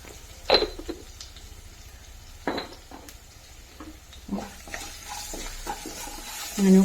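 Watermelon pickle mixture sautéed in a pan, with scattered scraping stirs and soft sizzling at close range, a few sharper clatters of a spoon against the pan, no talking.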